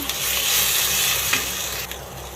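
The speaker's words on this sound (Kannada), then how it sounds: "ಒಂದು ದೊಡ್ಡ ಟೊಮೊಟೊ ಹಾಕೊತಾ ಇದ್ದೀನಿ ಇದು ಸಹ ಫ್ರೈ ಮಾಡ್ಕೋಬೇಕು" Tomato and curry leaves frying in a pan for avarekai sambar, a steady close hiss of sizzling oil running throughout with a couple of brief stirring scrapes and no voices.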